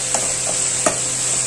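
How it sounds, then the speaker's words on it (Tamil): Finely chopped ingredients sauté in oil with a steady close sizzle, punctuated by a few soft stirring scrapes over a brief moment. "நல்லா வதக்கிக்கலாம், பொடியா இருக்கிறனால சீக்கிரமே வதங்கிடும்."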